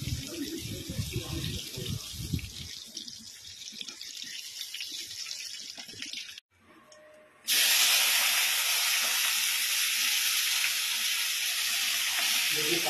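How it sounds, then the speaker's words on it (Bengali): Butter hits hot white cooking oil in a pan while chicken is being made, setting off an abrupt, loud, steady sizzling hiss that continues unbroken after a brief pause. "তেলের মধ্যে সাদা তেলের মধ্যে কিন্তু বাটার দিয়ে দিলাম।"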